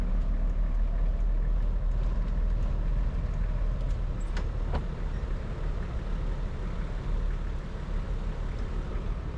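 A bus pulls away in evening city traffic, giving a steady, loud low engine rumble with continuous road noise and a few faint higher clinks. No one speaks.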